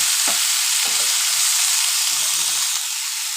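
Eggplant and potato pieces fry with turmeric in hot oil for a river-fish curry, giving a steady, loud, dense sizzle that holds evenly throughout.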